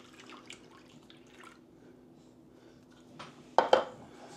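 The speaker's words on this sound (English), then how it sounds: "We're going to add our milk. I'm just going to go ahead and use the whole can of milk." Canned milk is poured from a can into a pan of mushroom soup gravy, giving a short wet splash and glug near the end after a quiet stretch of faint kitchen sounds.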